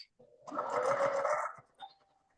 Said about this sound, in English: So right now I'm just chain piecing my, just did a solid white and a solid black.